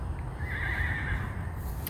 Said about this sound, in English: That's a horsey in the background.